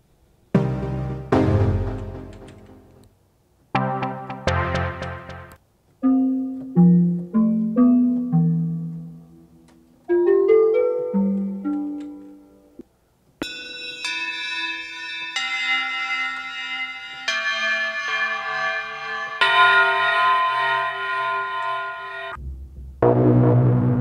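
Bell synthesizer presets auditioned in Reason 10 software, a series of separate struck and plucked tones with ringing decays, some low and mellow, later brighter shimmering chime patches, each note played alone with short gaps between them.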